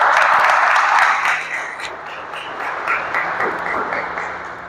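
Loud audience applause, a dense wash of clapping that starts strong and gradually thins and softens.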